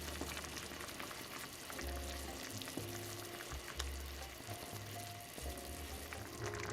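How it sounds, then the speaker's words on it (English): Chile relleno casserole sauce simmers in a pan over medium-low heat, giving a steady, moderate sizzle and bubbling frying sound with occasional faint stirring clinks, heard alone without talk. "I'm going to continue to cook our sauce on a medium-low heat for about 3 to 4 minutes."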